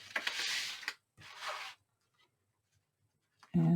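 Paper being burnished with a bone folder in two broad, hissy rubbing strokes during album making, followed by a quiet pause and a sudden louder thump at the end; no talking.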